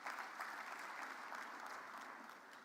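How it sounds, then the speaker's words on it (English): Sustained crowd clapping fills a conference hall at a youth event, a dense, even roar of many hands that eases off gradually toward the close, somewhat distant. "Another round of applause for Raymond, please."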